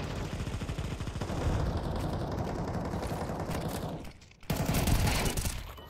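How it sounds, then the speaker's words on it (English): Rapid gunfire in the Counter-Strike 2 video game, with dense, continuous bursts of shots. A short pause near the end is followed by another loud volley. "Just panicking and shooting into the smoke."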